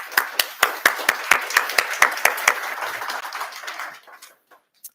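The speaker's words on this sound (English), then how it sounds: "We could give them a quick round of applause." A small audience at a spring 2025 AAPI/APIDA graduation celebration gives a quick round of applause, with distinct sharp claps up close, tapering off within a few seconds into near silence.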